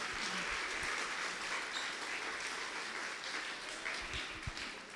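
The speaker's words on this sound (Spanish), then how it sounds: "Denle un aplauso fuerte a Jesús en esta hora" Sustained applause from a church congregation, dense clapping that stays loud throughout and eases slightly at the end.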